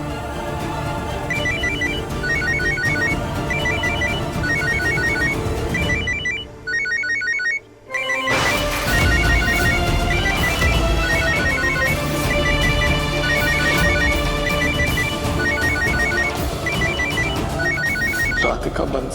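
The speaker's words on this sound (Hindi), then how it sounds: "फोन तो करना पड़ेगा राधिका।" A phone rings on an outgoing call, a repeating melodic ringtone pattern that carries on steadily for a long stretch, loud and close, with only a brief dropout partway through.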